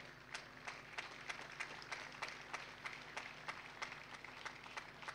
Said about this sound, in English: So let us clap for him.